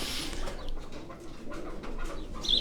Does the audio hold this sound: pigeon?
yes